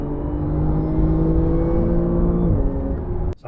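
An Audi S5 with an APR stage 1 tune on a test drive: a steady engine hum with a faint whine, heard from inside the car, smooth and even before briefly easing off at the end.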